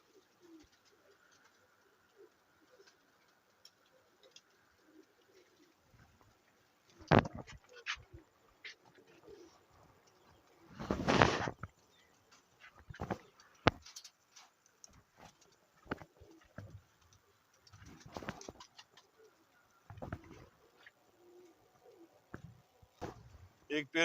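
Male and female Zeera Teddy pigeons cooing, soft intermittent coos and wing or cage rustles, with one louder burst midway and quiet stretches between calls.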